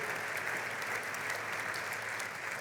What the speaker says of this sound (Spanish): y tiene merecido este aplauso y este reconocimiento.